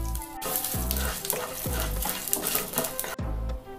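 Peanuts, a dried red chili and asafoetida roast in a hot pan, with a continuous crackling sizzle and repeated scraping stirs that fall into a loose, regular rhythm.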